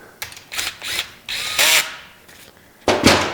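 A wrench ratcheting on a bolt during final assembly of a 350 engine, several loud bursts of quick clicking separated by short pauses, close by.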